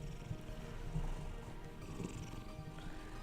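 A house cat purrs softly and steadily for a few seconds, a low continuous rumble close by with no talking over it.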